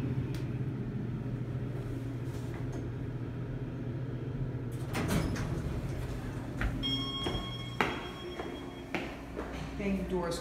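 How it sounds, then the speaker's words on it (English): Hydraulic KONE elevator doors in a Neiman Marcus store slide shut partway through, a brief rumbling close with a clunk, followed by a few chimes and small clicks over a steady low cabin hum. "Doors closing. Doors close."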